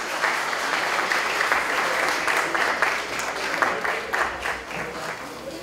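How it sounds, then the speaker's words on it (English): An audience at a press conference applauds during a floral bouquet presentation: a full room of steady hand clapping, sustained and moderately loud, with a few sharper claps standing out toward the end. "May I have a round of applause?"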